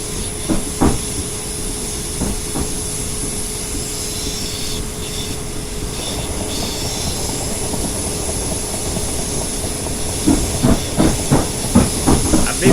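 A class 465 electric train passing in Train Simulator 2018 on a London line, a continuous hiss and rumble of wheels with a high whine, rhythmic clacking over rail joints near the start and end, no voices.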